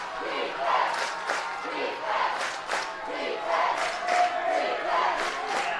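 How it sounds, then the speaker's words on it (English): Crowd noise at a Gehlen Catholic vs Woodbury Central varsity high school football game in the third quarter, a steady roar with rising cheers and shouted calls swelling in repeated bursts, moderately loud and continuous. "Crowd's getting into it now."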